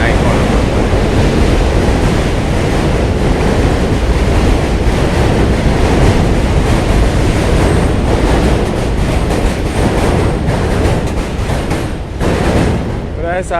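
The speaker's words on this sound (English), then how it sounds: "Oh, here comes a train." An N train rumbles across the Manhattan Bridge close overhead, a loud continuous roar and clatter sustained for over ten seconds, with wind buffeting the microphone and a voice briefly audible.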